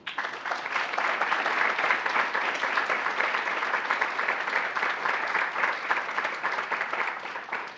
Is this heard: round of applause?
yes